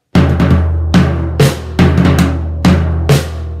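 Drum kit played fast in a rock pattern, with bursts of hits and crashing cymbals repeating in several loud phrases, alone with no talk.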